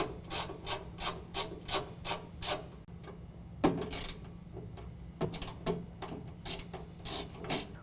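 An Allen key turns 5/32 Allen head screws out of a truck toolbox, making a rapid run of regular ratcheting clicks, a pause with a clunk, then another burst of clicks, close and quiet.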